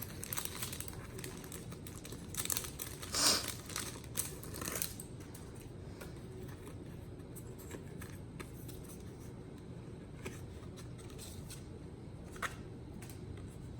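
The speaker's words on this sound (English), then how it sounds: "I'm just taking it out the plastic" Plastic packaging of nail art items crinkles and rustles in a short burst of handling near the start, then gives way to quieter, sparser rustles over a steady background hum.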